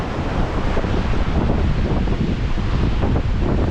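Strong wind buffeting the microphone, with surf washing against a rocky coast of stone stacks on Scotland's east coast at low tide, forming a loud, continuous roar.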